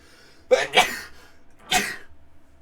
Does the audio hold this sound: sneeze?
yes